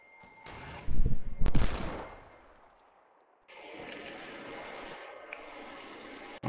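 Gunfire in a multiplayer shooter video game: a loud, rapid burst of shots near the start, then quieter, sustained rattling and sporadic cracks after a short lull.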